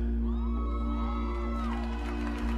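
A crowd at a church healing service screams and whoops loudly together, a dense sustained roar of many voices with one rising held cry standing out, filling the room throughout.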